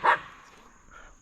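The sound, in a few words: dog barking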